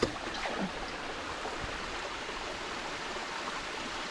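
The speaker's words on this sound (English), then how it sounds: "Let me get my hand wet." Hands are wetted with water before handling frogs and reptiles outdoors: a steady, close, soft splashing and trickling wash that runs without a break, with no talk over it.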